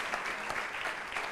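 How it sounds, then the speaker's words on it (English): A conference audience at a sports startup demo day in Italy applauds, a dense, steady patter of many hands clapping, fairly close and without speech. "So a round of applause to the startups"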